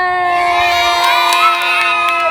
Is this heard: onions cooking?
no